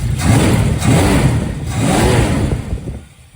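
A 1963 Dodge Dart convertible's engine, on a lift after years off the road, revs in close, loud rumbling pulses that rise and fall several times before easing off.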